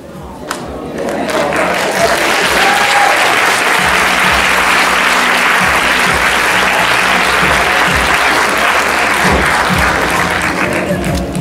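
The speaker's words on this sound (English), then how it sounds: "let's give the cast a round of applause" Loud, sustained applause from a theatre audience for the cast of a stage play, dense clapping mixed with crowd cheering that swells after a brief start and holds steady throughout.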